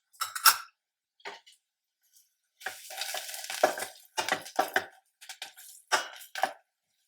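Stirring turmeric into cooking dal (pappu) in a Telangana-style kitchen, with scattered scraping and sizzling strokes in short bursts, close and fairly quiet, separated by brief silences.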